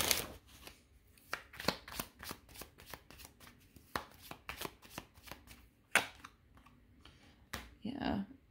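Tarot cards are shuffled in a steady run of crisp riffling bursts that patter along for several seconds, close and clear, with a brief voice rising near the end.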